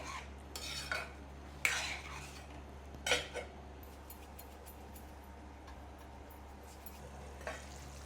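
A spoon stirs paneer cubes in gravy in a kadai. Soft scrapes and a few clinks of metal on metal come and go over a low simmering background, with no voices.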